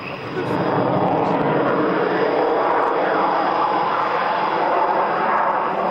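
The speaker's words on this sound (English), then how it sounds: "Tail slide in a jet fighter, fly-by-wire aircraft." Jet engine roar from a fly-by-wire jet fighter flying a tail slide at the 1998 Woodford airshow, a steady loud broadband rush that swells in after the first half second and holds without a break.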